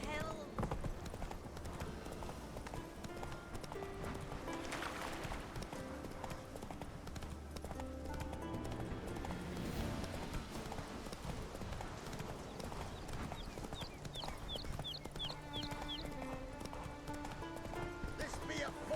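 Roach, Geralt's horse in the video game The Witcher 3, gallops with a steady rapid clip-clop of hooves that runs throughout, set under ongoing character dialogue and background game music.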